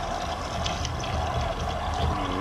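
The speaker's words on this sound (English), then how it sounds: "Add 5 cups of water and 1 cup of Coca Cola to the metal liner." Water pouring into an Instant Pot pressure cooker's metal liner along with Coca Cola for black beans, a continuous close gushing fill with a rising tone.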